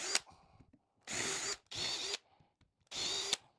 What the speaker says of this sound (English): we're just going to pre-drill a couple holes.